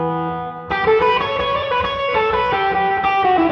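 Clean electric guitar tone shaped by constant work on the volume and tone controls, ringing as sustained chords with clear harmonics, brighter and fuller after a quieter opening, played alone without talk.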